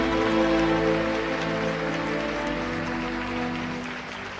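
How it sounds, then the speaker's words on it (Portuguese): Dense, steady clapping from a large church congregation, sustained throughout and tapering slightly toward the end, with no voices standing out. "Uma linda salva de palmas a Jesus, por favor."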